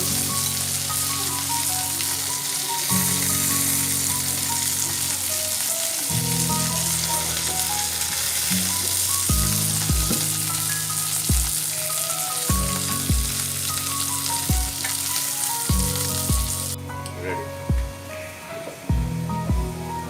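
Lightly fried beef kofta sizzling in hot oil in a pan, a continuous close hiss with repeated sharp knocks of a utensil against the pan as the balls are lifted out.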